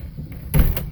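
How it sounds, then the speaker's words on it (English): A door being pulled shut inside a DIY steel-frame slide-in truck camper, a single close, solid thud with a short rattle after it. "let me close this door"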